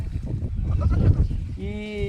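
A sheep in a flock of about four hundred gives a single wavering bleat near the end, after a stretch of murmured talk and rustling farmyard noise.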